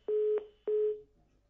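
A telephone line tone after a call to a Hindi astrology program drops: two steady beeps, the first about a third of a second and the second a little longer, separated by a short gap, then silence.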